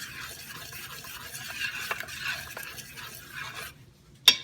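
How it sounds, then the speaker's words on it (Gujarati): Khata dhokla batter being mixed by hand in a bowl, soft scraping and stirring strokes at a quiet, steady pace, ending with a sharper clink. "હવે આપણે એને મિક્સ કરી દઈશું અને ગરમ જગ્યાએ મૂકી દઈશું"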